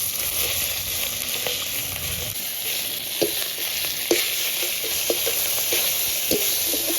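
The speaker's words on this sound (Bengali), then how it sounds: "মাথাটা হালকা ভেজে দেবো।" Loud continuous sizzle of a rohu fish head frying in hot oil, with a few scattered light taps and scrapes from a utensil.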